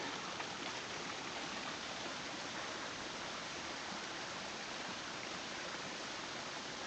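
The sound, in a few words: Trough waterfall flowing near railway tunnel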